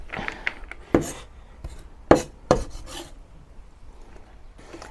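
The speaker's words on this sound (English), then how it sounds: "cut the onion into thin strips" A knife cuts an onion into thin strips for beef goulash, giving a few sharp, separate slicing knocks on a board, close, with quieter scraping between them and no talking.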